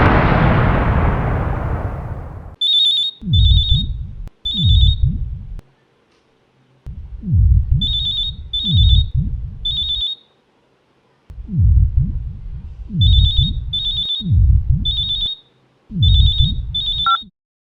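Old-style telephone in a Hindi horror show, a shrill bell ringing in repeated double bursts, each paired with a deep thudding heartbeat-like throb, loud and alone with no talk.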